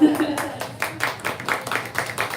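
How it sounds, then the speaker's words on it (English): Audience applause at an evening author event, a short burst of scattered clapping from a small crowd, moderately loud with uneven rhythmic claps fading slightly. "Round of applause for them as well."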